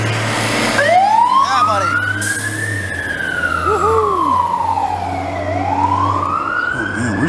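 An old fire engine from the Montreal fire department sounds its siren while responding to a call, a loud rising and falling wail over engine rumble, with a short spoken exclamation nearby.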